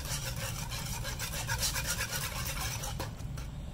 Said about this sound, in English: just whisk it all together just like this.